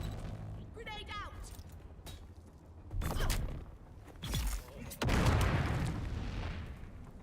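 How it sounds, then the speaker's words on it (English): A grenade goes off in the Dune video game, heard as a few heavy, booming blasts and rumbles amid in-game noise, with a player's voice talking over the action. "Grenade out."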